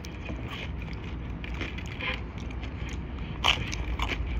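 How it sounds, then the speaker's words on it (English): A bite into a slice of tomato pie pizza at a Pasadena pizza joint gives a brief crunch, heard over steady background room noise. "Hear that crunch?"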